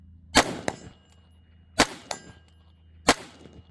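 Three sharp metallic clangs spaced about 1.5 seconds apart ring out across an outdoor range as rifle rounds strike a steel target, each hit followed by a quieter echo or ring.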